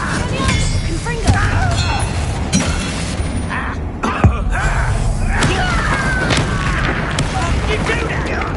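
Confringo blasting spell in Hogwarts Legacy, dense booming impacts and crackling bursts layered under constant loud game action and music throughout.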